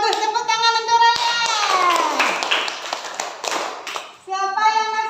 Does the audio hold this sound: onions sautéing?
no